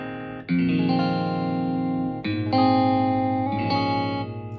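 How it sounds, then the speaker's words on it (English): Electric guitar chords ring out with a warm, rounded jazz-box tone and a shimmering effect, changing a few times and sustaining smoothly with no voices. "That's kind of like a jazz box sound on the guitar."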